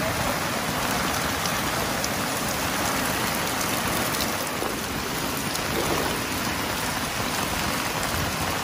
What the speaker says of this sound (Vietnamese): Lâu lắm rồi là mới được tắm mưa vậy á.